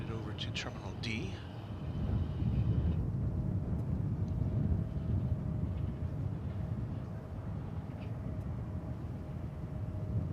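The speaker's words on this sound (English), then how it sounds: "there goes that Dreamliner headed over to Terminal D" A Boeing Dreamliner airliner taxis at DFW Airport toward Terminal D, a steady low rumbling engine drone at middle distance running throughout, with brief clicks near the start.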